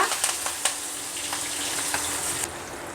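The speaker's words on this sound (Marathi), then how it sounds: "फोडणी खमंग झाली आहे" Hot oil sizzles and crackles steadily with a few sharp pops as a tempering of cardamom, cinnamon, bay leaves, asafoetida and curry leaves fries, close by, with no talking.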